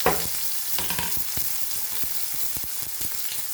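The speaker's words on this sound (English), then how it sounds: "tablespoon of coconut oil. Add our onion, tomatoes, on low flame." Onion and tomatoes frying in coconut oil over a low flame, giving a steady close sizzle with scattered crackles and a few sharp pops throughout.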